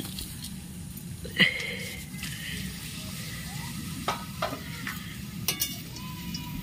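Papad frying in hot oil gives a steady low bubbling sizzle, close up, broken by a few sharp crackles and clinks scattered through.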